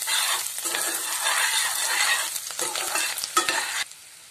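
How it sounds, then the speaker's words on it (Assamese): Green chillies and curry leaves fry in a pan with ginger-garlic paste, with loud continuous sizzling, scraping stirs of a utensil against the pan, and a sudden drop to quiet near the end. "জলকীয়া আৰু নৰসিংহৰ পাতখিনি ভাজি লৈ তাত আদা আৰু নহৰু পেষ্টটো দি লৈছো"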